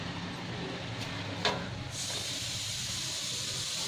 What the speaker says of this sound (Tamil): காஞ்ச நெய்யில் நம்மளுடைய டெசிகேட்டட் கோகோனட் பவுடரை போடுறோம்.